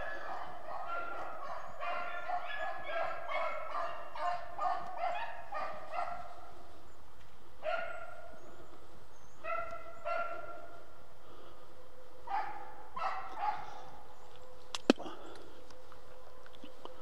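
Beagles bay and bark outdoors while running a hunt, a rapid ragged chorus of yelps that comes in bursts, moderately distant and thinning out over time.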